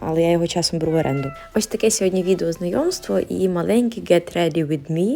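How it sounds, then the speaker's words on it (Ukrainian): A cat meows repeatedly, several drawn-out, rising and falling cries that come close and clear, interleaved with someone talking in Ukrainian over the top. "До речі, це кіт, ну не зовсім мій"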